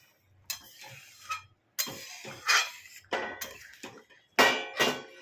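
A lid is lifted from a cooking pot of South Indian style red lentil dal, making a series of separate metallic clinks and knocks with short silences between them.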